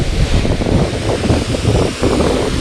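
Water pouring down at the Palasdari waterfall beside the dam, a steady, loud broadband rush without pause, close by and unbroken.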